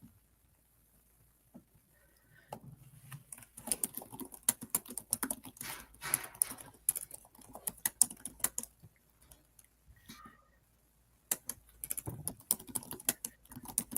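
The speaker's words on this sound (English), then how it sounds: "I can hear Julie like typing." Close-up computer keyboard typing comes in irregular bursts of rapid clicking keystrokes, with pauses and brief silences between flurries.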